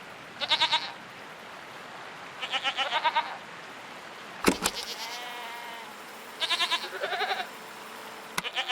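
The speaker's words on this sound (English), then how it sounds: "What are these strange goat-like creatures? Are they simply goats?" Goats bleat in several short, wavering bursts, some overlapping, with a few sharp clicks and mechanical whirs between the calls.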